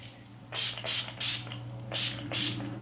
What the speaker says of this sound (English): mist my face with my Urban Decay All Nighter Makeup Setting Spray